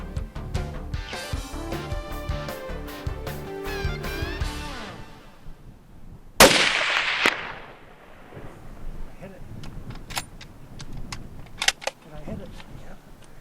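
A single sharp rifle shot at a Dall sheep ram on a Yukon hunt cracks out loudly and echoes off, following a stretch of music and followed by quieter clicks and a narrating voice.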